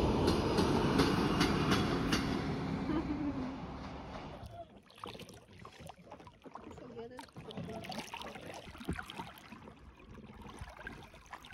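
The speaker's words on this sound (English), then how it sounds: "I happened to capture the train passing by while we were sailing" Train rolling past on a railway track beside water during a canoe trip in the Slovak mountains, a loud, close rumble with rhythmic clatter that fades after about four seconds, leaving paddling and faint talk.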